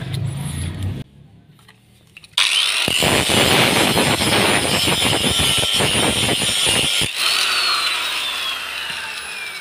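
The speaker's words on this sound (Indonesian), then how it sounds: "Kita gunakan gerinda yang besar aja supaya lebih cepat." A large angle grinder grinding a hardened steel knife blade, a loud continuous abrasive whine and rasp after a brief quiet spell, running steadily close by before tapering slightly.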